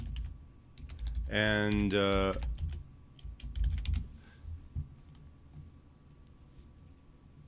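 Rapid clacking on a computer keyboard as a quiz question is typed, close up and brisk, with a short burst of speech over the keys and a few scattered taps afterward.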